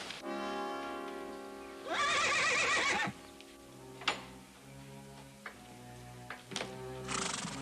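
A horse whinnies loudly for about a second, followed by sparse knocks and a second, shorter whinny near the end over a soft tonal background.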